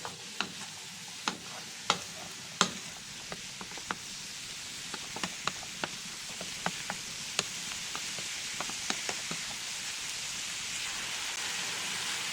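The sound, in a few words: stirring minced meat frying in pan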